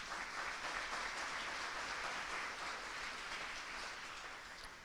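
Audience at a State of the City address giving sustained applause, a dense, even patter of many hands that fades slightly toward the end, heard alone without talk.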